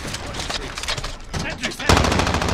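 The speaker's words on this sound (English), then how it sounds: "Got a sentry gun on station." Rapid automatic fire from a sentry gun in Call of Duty Modern Warfare, a dense continuous rattle of shots that grows louder near the end, with no talk over it.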